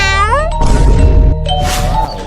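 A cat meows loudly and close by, one rising and falling cry followed by a second shorter meow, with thumping noise in between.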